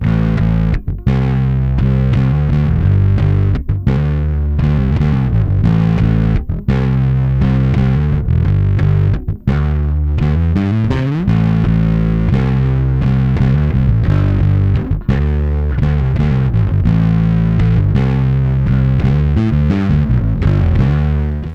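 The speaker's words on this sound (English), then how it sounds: "So this is what the Planet B sounds like." Bass guitar played through a Planet B effects pedal on a pedalboard, a dense, continuous distorted and modulated tone with steady chugging notes and brief gaps, loud and alone with no talking.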